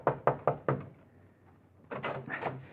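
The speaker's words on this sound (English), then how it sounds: "you pound on the door" A fist pounds on a door as a radio drama sound effect, four heavy knocks in quick rhythm, then a brief lull before a second, rougher burst of banging, close and loud.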